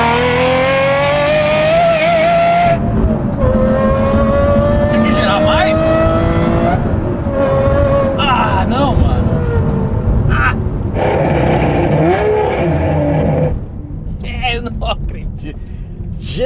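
An Aston Martin V12 with a manual gearbox roars loudly, revving up through rising harmonic sweeps with brief drops between gear changes, while people talk excitedly over the engine.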